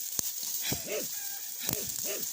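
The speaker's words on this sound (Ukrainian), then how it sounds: "Влаштували гвалт кури сусідські." Neighbours' chickens clucking and squawking in a rural yard, a few rising-falling calls in two bursts, faint and somewhat distant against a steady background hiss.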